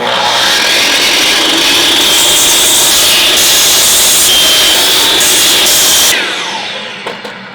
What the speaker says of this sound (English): So I'm going to use the big saw.